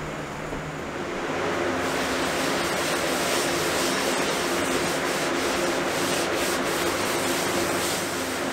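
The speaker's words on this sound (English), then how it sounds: "I have a green Scotch-Brite pad. Lightly scuff this to kind of sand it" A green Scotch-Brite pad lightly scuffs the finish on a rustic construction-lumber TV cabinet, a steady, close, rough rubbing hiss that runs continuously without pause.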